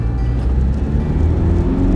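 Toyota Fortuner 3.0 D-4D diesel engine with automatic gearbox revving under throttle, a loud, steady low rumble held close and alone for about two seconds.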